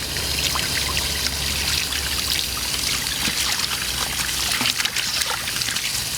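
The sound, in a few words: washing chili peppers with water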